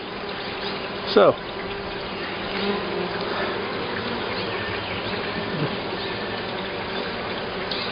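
Honeybees buzz around an open hive in a constant, dense drone, close and steady, while a person briefly speaks.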